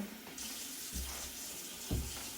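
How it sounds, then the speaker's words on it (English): Water runs from a kitchen tap while being added to a citrus pudding cake batter: a steady, close hiss of flow lasting a couple of seconds, with two brief heavier splashes, and no voices. "I'm going to add just a little bit more water."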